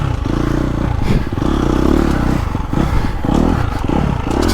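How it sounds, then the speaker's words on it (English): A motocross dirt bike, either a 2022 Honda CRF250R or a 2021 KTM 350, rides through tight woods with a steady, loud engine drone that rises and falls with throttle, mixed with clattering and scraping from the trail. "get in some tight woods too, have some fun, and this bike still goes"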